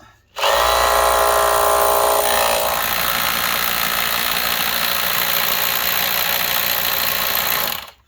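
A loud power drill with a masonry bit whirs continuously at close range, its pitch shifting as it bites through wood into concrete.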